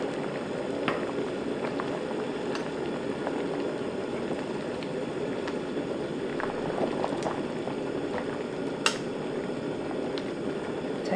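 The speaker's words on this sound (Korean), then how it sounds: "자, 이제 술 향이 다 날아가게끔 뚜껑 계속 열어놓고 끓을 때까지 끓입니다" A pot of pork belly in water with soju and salt boils with the lid off, giving a steady, continuous bubbling roar with occasional sharper pops.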